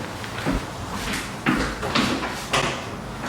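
Doors opening in an empty, echoing apartment: several sharp clunks and rattles at irregular intervals over a hollow room tone, close and fairly loud.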